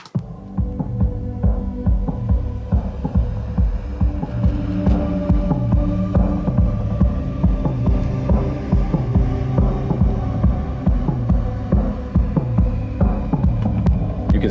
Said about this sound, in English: we can play a little bit of a song that I'm working on actually with my band